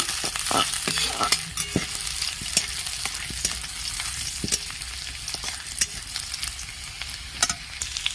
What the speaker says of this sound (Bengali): ভেজে নেব লাল করে বেশি লাল করব না